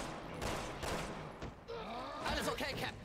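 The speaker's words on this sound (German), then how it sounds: "ich muss jetzt mal auf dich schießen" Gunfire from the game Resident Evil 6 crackles in rapid bursts, loud and dense, while voices talk over it, one of them a character's voice near the end.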